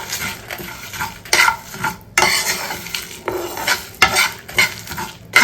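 Homemade masala spices are dry-roasted with salt in a pan, heard as a spatula scraping and stirring against the metal in uneven bursts separated by short pauses, close and fairly loud, with no talking.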